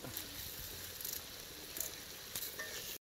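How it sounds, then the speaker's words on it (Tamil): Curry leaves being stirred into sizzling fish masala for meen pollichathu, giving a steady frying hiss with a few scraping stirs, close by and unbroken, with no speech. "கருவேப்பிலை போட்டு ஒரு கிண்டு கிண்டி விட்டுட்டு"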